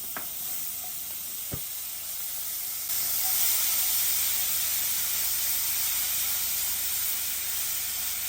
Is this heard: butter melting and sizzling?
yes